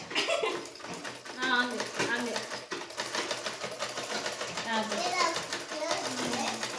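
A household sewing machine runs steadily throughout, with a child and adults chatting and laughing nearby over the whirring mechanism.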